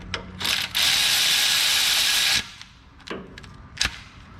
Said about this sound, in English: go ahead and put your drain plug back in